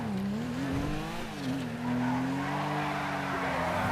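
A tuned car's engine in GTA 5 drones steadily at a low, constant pitch, loud and close, rising slightly in tone with a brief dip, with faint tire noise and no voices.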